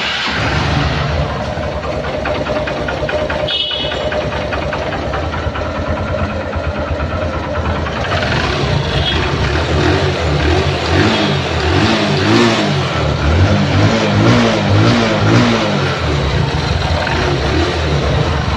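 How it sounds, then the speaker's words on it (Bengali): A 2019 Honda Livo 110cc motorcycle engine runs steadily, idling with a mid-pitched drone and then rising in repeated revs from the throttle, close and loud throughout with no talking. "ফ্রি অ্যাক্সেলেটারেও কিন্তু গাড়ির সাউন্ড খুবই ভালো আছে"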